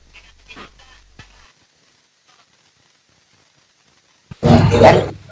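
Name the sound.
person imitating a dog barking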